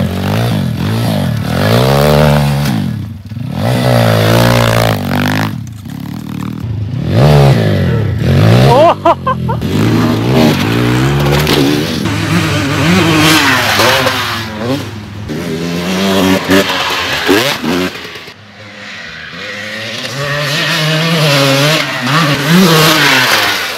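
Motorcycles rev on a dirt practice track, with loud, repeated throttle bursts rising and falling in pitch and brief gaps between them, and voices now and then under the engine noise.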